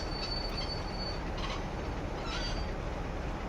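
A train runs along the track in a railway simulator game on the WCML North route, a steady rumble with a faint high wheel squeal running throughout, no voices.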